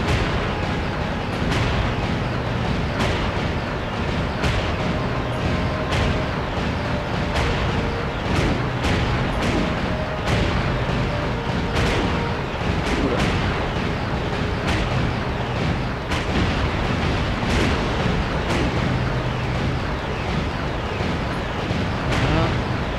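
Cannon fire and explosions in the Castlevania video game, a loud, continuous barrage of booms and blasts repeating in quick succession throughout, dense and close with no pauses.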